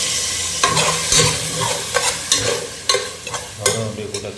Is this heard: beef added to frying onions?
yes